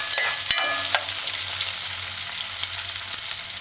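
Sweet potato cubes and diced scallion stir-fried in a hot pan, a loud continuous sizzle close up, with a few utensil taps and scrapes early on and no speech over it.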